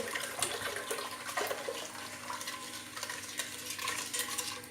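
Milk poured into a pot on the stove while making güllaç, a steady liquid pour and splash with faint stirring clinks, close and continuous throughout.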